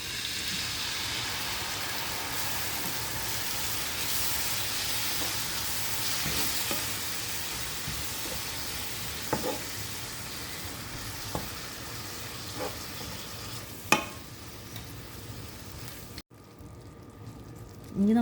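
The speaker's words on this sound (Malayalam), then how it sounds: "ഇനി നമുക്കിതിലേക്ക് ശർക്കര പാനി ചേർത്ത് കൊടുക്കാം." Jaggery syrup poured over lightly roasted grated coconut in a pan, giving a steady wet sizzle with occasional scraping stirs and clinks, fading toward the end.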